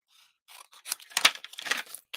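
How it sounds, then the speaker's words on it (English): Scissors snipping and slicing through paper during fussy cutting for a craft project, a quick irregular series of close, crisp cuts and rustles with no talking. "when you fussy cut, you want to move the paper you're cutting"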